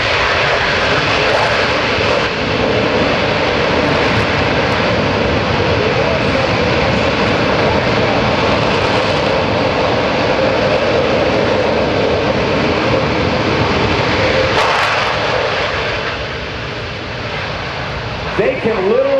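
A C-17 Globemaster III military jet transport on its landing run at an open house airshow, its engines roaring at full volume in a steady, broadband rumble for the whole stretch, easing slightly near the end.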